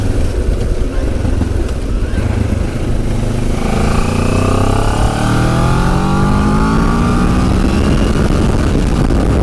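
A QJ Motor SRT 700 SX motorcycle engine accelerates steadily, its pitch climbing through several rising gear sweeps, loud and close throughout.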